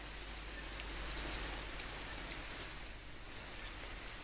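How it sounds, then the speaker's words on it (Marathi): Heavy monsoon rain falling steadily in Ratnagiri, a dense, loud, continuous hiss of drops on surfaces with no pauses and no voices. "रत्नागिरीत सुद्धा दमदार पावसानं हजेरी लावली आहे"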